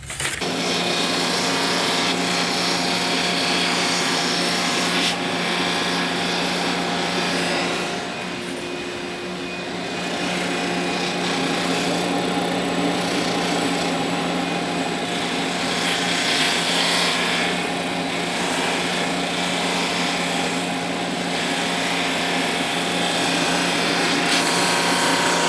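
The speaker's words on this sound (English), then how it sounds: "We need to just run it through the drum sander and true it up" A drum sander trues up a bandsawn slab of quilted maple in a woodshop, producing a loud, steady, continuous machine roar with a whine that dips briefly partway through.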